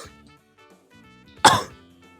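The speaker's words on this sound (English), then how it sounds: "that was an awful cough" A single harsh, loud cough bursts out near the end, sharp and close, after a stretch of quiet background sounds.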